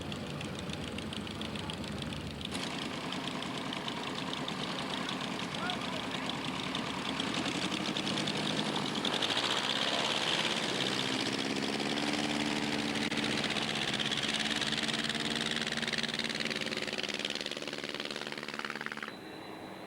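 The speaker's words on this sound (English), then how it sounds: "This is powered by a 125 horsepower Lycoming." A vintage biplane's 125 horsepower Lycoming engine runs steadily at an airshow, a continuous loud rough drone with a rattling, knocking texture that holds throughout without any talk.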